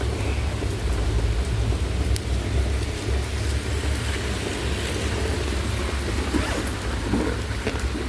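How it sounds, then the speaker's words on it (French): Steady rain pours outdoors in a dense, even hiss with a low rumbling undertone like distant thunder, constant throughout and with no talking. "En plus, il pleut, ça m'arrange."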